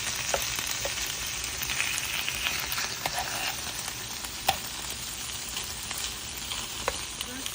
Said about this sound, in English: Our onions and carrots take longer to cook, so we already got it going on the grill